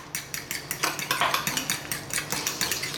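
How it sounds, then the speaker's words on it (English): A utensil mixes mayonnaise and pesto, about two parts mayo to one, in a container. It gives a steady run of rapid clinks and scrapes, close and fairly loud, with no voices. "Simply a little mix."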